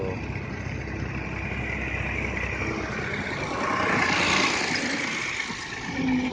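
A tractor engine runs on a village road by a canal, a steady, close diesel rumble that swells slightly as it passes, with no talk over it.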